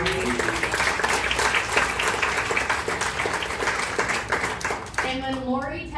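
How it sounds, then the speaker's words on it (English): An audience applauds, a dense, steady wash of clapping hands that fills the room from start to finish. A voice comes in over the clapping near the end. "Can we have a round of applause for Lori?"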